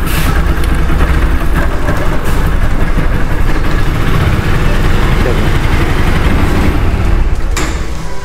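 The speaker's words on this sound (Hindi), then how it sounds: "बाइक के मैं RPM थोड़े से बढ़ा देता हूँ।" A loud motorcycle engine runs continuously close by, revved with slightly raised RPM, a rough mid-pitched motor roar that holds steady throughout, with no clear talking over it.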